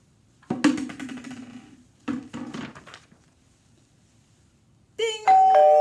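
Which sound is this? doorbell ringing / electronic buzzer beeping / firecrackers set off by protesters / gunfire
doorbell ringing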